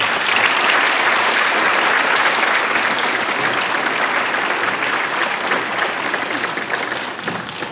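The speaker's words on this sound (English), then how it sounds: "So let's give everyone a round of applause." A school audience at an elementary moving up ceremony gives a loud, sustained round of applause, thick clapping that tapers slightly at the end.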